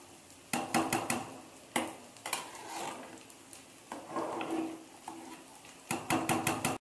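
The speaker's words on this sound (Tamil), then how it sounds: "ஒரு கிண்டி கிண்டி விடுங்க" Mushroom rice is stirred in a pot with a utensil, producing loud scraping and clattering strokes in bursts, with sharp metallic taps at the start and end and no talk.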